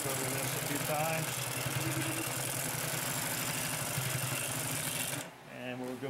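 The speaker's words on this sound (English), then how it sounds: "So we're going to sew back through this." A Consew P2339RB industrial sewing machine stitches back through heavy fabric, a fast steady mechanical chatter that runs continuously and then stops abruptly near the end, with a voice talking over it.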